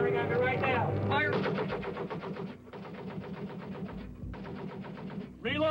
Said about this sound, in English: We are receiving small arms fire north of checkpoint 22 Alpha.